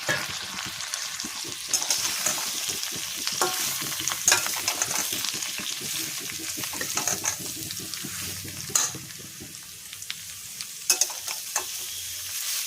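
Tender sliced ridge gourd, four of them, dropped into a pan with already fried potatoes, sizzling steadily while being stirred with scraping and tapping utensil strokes, close and clear, with no talking.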